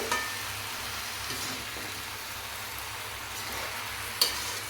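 Malabar spinach with vegetables cooking in a pan, a steady close sizzle with soft stirring scrapes and a sharp clink near the end, no talk.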